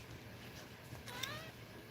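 A pet cat meows once, faint and somewhat distant, a brief rising-falling call over a quiet room background.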